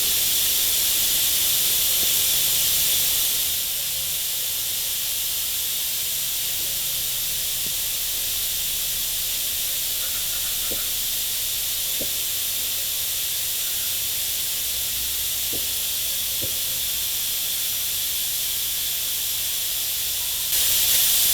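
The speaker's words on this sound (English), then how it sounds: "I don't know if you can hear that, but it is emptying the gas." Propane gas hisses steadily and loudly while a 1 lb propane bottle is refilled, a broad continuous rush lasting throughout with a few faint clicks underneath and a slight drop in level after the first few seconds.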